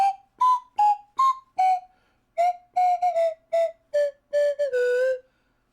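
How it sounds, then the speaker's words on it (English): A slide whistle played in short, separate toots, about a dozen bright pitched notes that rise and fall in stepwise bursts, loud and close with no talking. "We could use the slide whistle, but slide whistle is technically blowing and not sucking."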